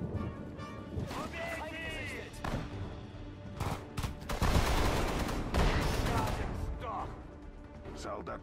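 Machine guns and other gunfire rattle in a Sudden Strike 4 battle at Lake Balaton, dense bursts and crashes building into a loud sustained fusillade midway, with soldiers' voices speaking over the fighting.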